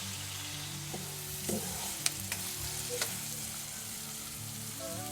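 Green chilies and onion frying in a pan give a low, steady sizzle, punctuated by a few sharp spoon clinks and scrapes. The sound is close but fairly quiet, and no one speaks.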